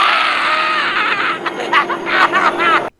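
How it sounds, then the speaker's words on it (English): A loud, drawn-out scream from the Penguin in the Batman game Arkham City, wavering and rising over about three seconds before cutting off abruptly. "Penguin lets out a loud scream."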